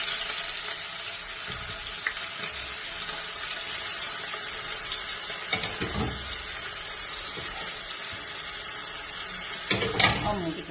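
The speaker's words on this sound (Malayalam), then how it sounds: "ഇട്ടിട്ടുണ്ട് പാനിൽ സവാള ഇട്ടെടുക്കാം." Sliced onions frying in a pan for a green chicken curry with almonds and coriander, a steady close sizzle with stirring scrapes and brief clatters, louder bursts near the end, no talking.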